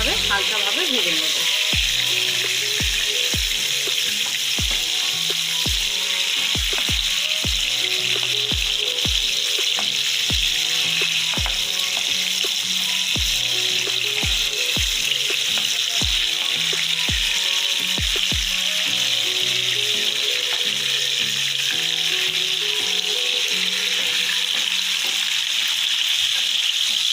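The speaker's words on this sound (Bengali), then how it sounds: "এইভাবে হালকা ভাজা থাকবে।" Steady close sizzle of rohu fish frying gently in a wok, with regular knocks and scrapes of a spatula turning the pieces in the first part, then just continuous hissing oil.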